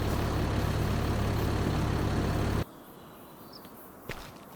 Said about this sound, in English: let's go ahead and jump in West's tractor and head back to the farm